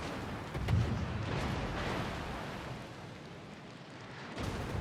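Battleship gunfire in the World of Warships naval combat game with a Montana battleship: a low, continuous rumbling boom with a heavier burst near the start, fairly quiet and without speech.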